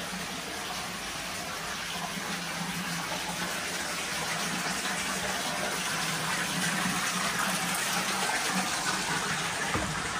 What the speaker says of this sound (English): You can hear the fountain in the center of the staircase.